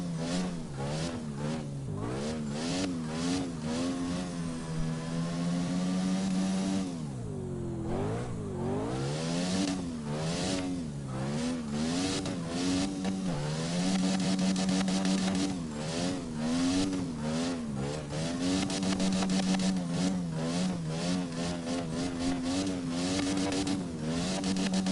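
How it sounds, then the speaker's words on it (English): Car engine in the CarX Drift Racing game, revving loudly and continuously, rising and falling through gear changes and drifts with rapid pitch swings, close and alone without talk. "this car sounds good."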